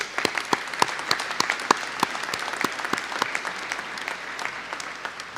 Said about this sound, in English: I just want to pause there and give a big round of applause